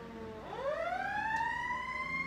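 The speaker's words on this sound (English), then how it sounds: "There's a siren coming. Can you hear that?" An emergency vehicle siren wails outside, rising into a steady sustained tone that holds clearly at moderate distance, with no talking over it.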